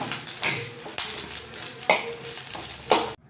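Oil sizzles softly in a pan while a utensil scrapes and stirs, with a few sharp clinks of metal at regular intervals.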